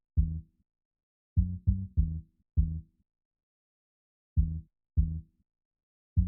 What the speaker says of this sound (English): the bass pattern